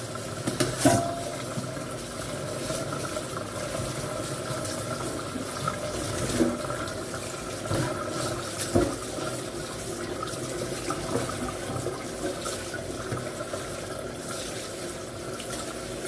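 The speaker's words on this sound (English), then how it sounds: "So make sure you wash all the leaves properly." Greens leaves being washed in salted water in a sink, with a steady running, splashing wash of water throughout and a few louder sloshes and clunks, fairly close and with no talking.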